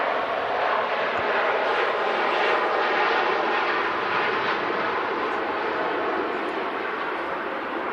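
A Boeing 787 Dreamliner bound for Shanghai rolls for takeoff at Manchester Airport, its engines giving a loud, steady, broad roar that holds for several seconds with no talking.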